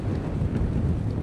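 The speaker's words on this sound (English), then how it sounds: "it is really windy. Really windy." Strong wind buffets the microphone in steady low rumbling gusts, loud and continuous outdoors at a practice session, with no voices.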